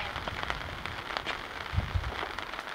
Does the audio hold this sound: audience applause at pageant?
no